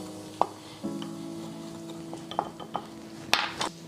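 Seasoning mixed in a bowl for smothered chicken, light scattered clinks and scrapes of a utensil against the dish at close range, with a few sharper taps over a faint steady hum.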